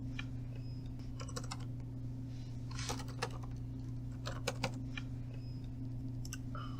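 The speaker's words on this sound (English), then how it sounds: "we just have lots of typing noises" Continuous typing on computer keyboards, with irregular bursts of light key taps over a steady electrical hum, at moderate distance with no talking.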